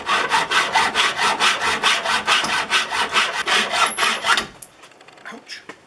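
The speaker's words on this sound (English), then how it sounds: "Then I just take my hacksaw and start cutting." A hacksaw cuts with about fifteen fast, evenly spaced back-and-forth strokes, loud and close, then stops and leaves a few faint clicks and scrapes.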